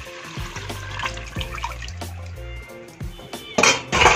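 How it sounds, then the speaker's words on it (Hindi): Mutton stock being poured into a cooking pot of spiced, browned goat trotters curry, a steady liquid splashing and gurgling that grows louder and more sizzling toward the end. "अब हम इसमें डालते हैं अपनी मटन की यखनी।"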